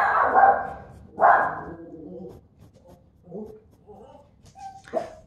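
A dog gives two loud, close barks in quick succession, followed by softer scattered sounds and quieter vocal noises.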